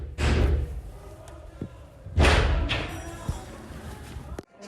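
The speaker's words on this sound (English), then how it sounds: "they listened to the invaders banging on that door, as you can hear on a recording from one of the staffers' phones" Rioters bang hard on an office door during the January 6th Capitol breach, captured on a phone as two heavy thumping slams a couple of seconds apart, booming and slightly muffled from inside the room.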